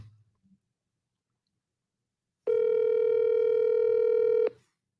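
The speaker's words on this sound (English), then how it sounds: "It's ringing." A steady telephone ringback tone heard while placing a call, a single continuous buzzy tone lasting about two seconds after a short silence, loud and clear with no talk over it.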